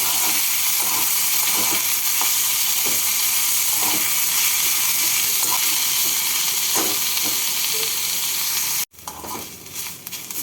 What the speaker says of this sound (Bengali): এবার এর মধ্যে কুচনো পেঁয়াজ দিয়ে দেব পেঁয়াজ দিয়ে পেঁয়াজটাকে লাল করে ভেজে নিচ্ছি